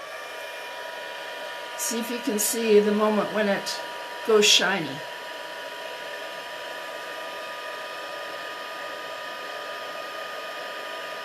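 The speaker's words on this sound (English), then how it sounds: "now I'm going to use my heat tool" A constant, steady whirring craft heat tool blower runs throughout at an even level, with a person speaking briefly over it early on.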